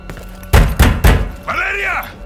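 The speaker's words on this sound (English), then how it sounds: "Bang on the door, Sergeant." Three heavy thudding bangs on a door in the Call of Duty: Modern Warfare II video game, struck in quick succession close up, followed by a voice calling out.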